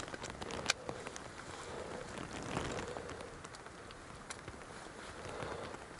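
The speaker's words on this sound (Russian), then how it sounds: "Все, обещанный дождик пришел." Light rain arriving outdoors on a fishing trip, pattering steadily on surfaces as a soft, even hiss with a few sharper drops and some faint movement nearby, with no speech.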